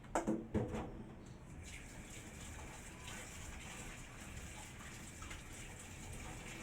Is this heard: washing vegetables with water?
yes